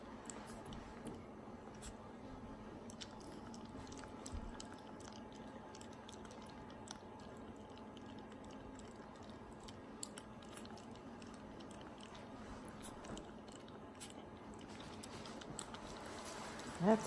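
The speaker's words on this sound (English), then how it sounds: "I added some hot water so he can lap at it because he's not very good at chewing it." Soft, wet lapping and smacking of a small pet eating softened food mixed with hot water, a faint, close, irregular patter lasting throughout.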